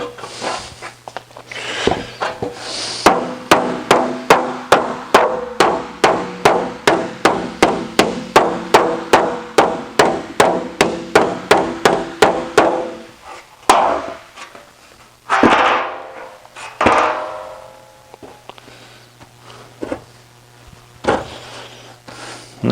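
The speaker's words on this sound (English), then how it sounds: "there's really no difference if you do this with the hammer or you do it with a power hammer or a planishing hammer" Hand hammer planishing an aluminum bonnet panel for a Jaguar E-Type, a steady run of about two dozen sharp, ringing metallic blows close up, then a few scattered rubbing and handling noises with no talking.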